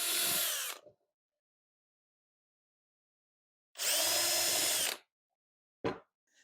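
Power drill boring holes for mounting screws in short bursts: a loud, close whine near the start, a longer second burst after a silent pause, then a brief final spin.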